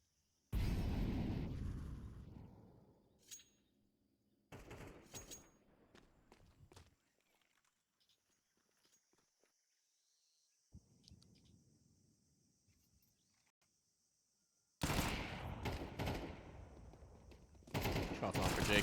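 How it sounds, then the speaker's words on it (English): Gunfire from a professional Counter-Strike pistol round, FLUFFY AIMERS versus Liquid at IEM Rio 2024. Sharp bursts of shots arrive in three loud clusters with quieter footsteps and game ambience between them, and a voice talks faintly at times. "Shots on for JKS."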